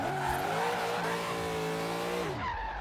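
A Corvette with a big LS V8, 5.7 or 6.1 liter, pulls hard with a loud, steady engine drone and a rising tone that falls away near the end. Tire noise underneath, no talking.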